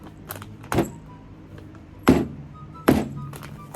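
A hard, extremely sour candy is struck to break it, three sharp, close knocks spaced about a second apart over quiet background, with faint small clinks between them and no talk.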